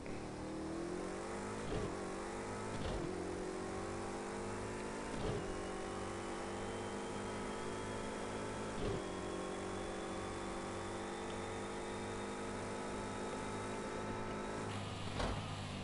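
An LMP3 prototype race car in Project Cars 2 rolls out of the pit lane, its engine droning steadily with a few rises and dips in pitch, loud and close with no voices.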